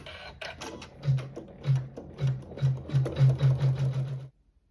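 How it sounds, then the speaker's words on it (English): A sewing machine stitches a satin stitch in a series of rhythmic mechanical bursts that speed up toward the end, then stops abruptly, leaving near silence. "we'll use a thread that matches our main fabric in the needle, and we'll sew the satin stitch"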